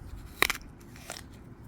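One sharp, crisp crunch of teeth biting into a Belida apple, close up, followed by a faint smaller crunch and quiet.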